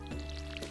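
Soft, squishy watering-can splashes from watering crops in Stardew Valley, a brief burst of dripping liquid over steady game background music, quiet and close.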